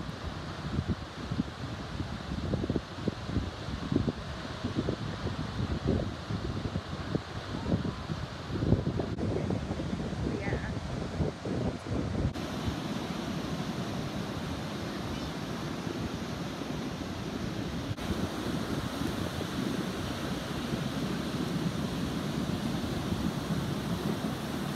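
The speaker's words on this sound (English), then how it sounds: "You can probably hear the waves and probably the wind as well." Wind gusting over surf on a wild coastal cliff path at La Pared, Fuerteventura, a steady roar of breaking ocean waves and blustery wind buffeting the microphone, denser rumbling in the first half and then a constant wash.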